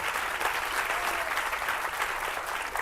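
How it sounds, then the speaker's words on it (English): An audience at a panel event applauds for the host, a continuous, even burst of many hands clapping that holds steady throughout, with no talking over it. "Please give a warm round of applause for your host, Alex O'Connor."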